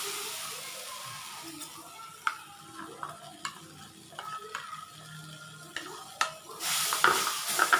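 Ginger and other ingredients for a cough remedy are added to a hot dry wok over low gas and roasted, with a soft sizzle, scraping stirs and metal clinks building up near the end, with brief speech.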